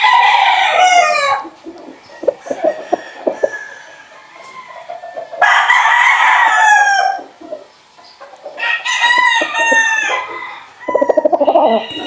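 Bullstag roosters crow at a large gamefowl farm in San Rafael, Bulacan: several loud, close cock-a-doodle-doo calls, each a few seconds long, separated by softer clucking and bird chatter, with no talking.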